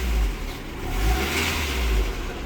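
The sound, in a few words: old car engine revving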